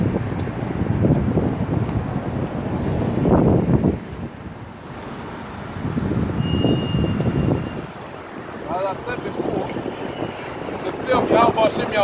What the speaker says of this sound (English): Despite it being windy, as you have witnessed just now